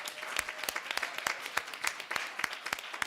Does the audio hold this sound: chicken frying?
no